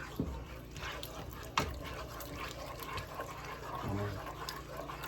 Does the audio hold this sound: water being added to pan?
yes